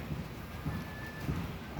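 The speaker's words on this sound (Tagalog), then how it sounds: "umuulan dito sa Rizal" Rain falls outdoors in Rizal as a steady low wash of patter with faint rumbling, continuous and moderate throughout.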